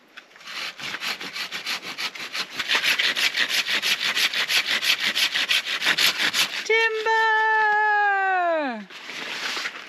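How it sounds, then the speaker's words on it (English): Hand saw cutting through a fig tree branch outdoors, a steady run of rhythmic rasping strokes for several seconds, briefly interrupted by a sharp tonal squeal, then sawing resumes. "So Sinead is going to lop the branch off up there."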